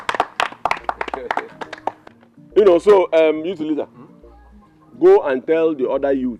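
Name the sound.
applause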